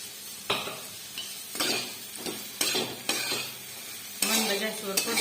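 Food sautéed in a pan on a low gas flame, with a spoon scraping and clanking against the pan in several distinct strokes over a gentle sizzle.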